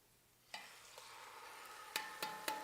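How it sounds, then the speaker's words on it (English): Beef sizzles faintly as it sears in a hot pan, with a soft hiss broken by a few sharp clicks and scrapes. "we want to hear that baby sizzle"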